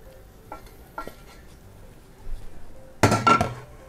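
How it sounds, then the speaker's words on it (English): Choux pastry dough being scraped out of a pot into an empty bowl: a few light utensil taps, a soft dull scraping, then a louder burst of metal-on-bowl knocks and scrapes near the end, close and without talk. "I'm going to be moving my dough from the pot to an empty bowl"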